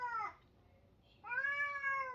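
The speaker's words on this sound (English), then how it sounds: "There's a cat out there or something he wants out there" A cat outside gives two meows, a short one followed after a pause by a longer, drawn-out one, fairly faint and slightly distant, with no talk over it.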